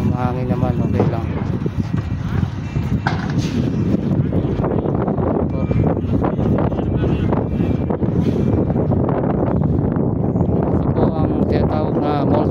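Strong wind buffets a microphone outdoors on a hot, breezy morning at a sand-levelling site, a constant loud rumbling roar throughout while a person talks over it.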